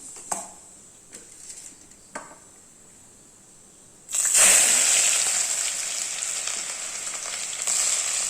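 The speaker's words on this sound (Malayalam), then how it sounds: "കടുക് പൊട്ടിയതിന് ശേഷം" Quiet kitchen ticks and a few small pops, then a loud burst of hot coconut-oil sizzling that keeps going steadily, with mustard seeds sputtering close by.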